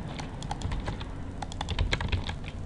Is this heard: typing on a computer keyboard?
yes